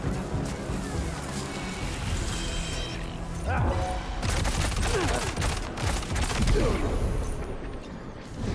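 Rifle fire in Death Stranding 2: a sustained run of rapid shots and impacts, loud and close, layered over a dense game soundscape with some crashing debris.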